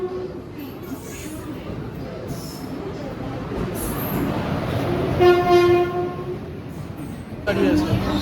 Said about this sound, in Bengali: প্ল্যাটফর্মে এলাম আর আমাদের ট্রেন ঢুকছে।